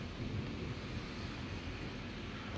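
Thunder rumbles through a severe thunderstorm with heavy rain, a steady low roar that carries across the whole short stretch with no one speaking.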